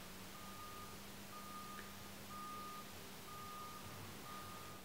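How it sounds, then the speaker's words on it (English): A reversing truck outside beeps in a steady, regular pattern of tones, faint and distant against a constant low indoor hum, with no talking. "And now there's a reversing truck outside,"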